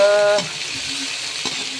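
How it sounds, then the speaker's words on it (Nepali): Leftover rice sizzles and crackles steadily in a hot pan as it fries, with a brief tonal hum at the start and a couple of stirring clinks. "दिउँसोको भात थियो, त्यसलाई भुट्न लाछु"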